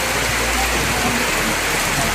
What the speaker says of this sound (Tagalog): sobrang lakas ng ulan actually dito sa Suba Lagoon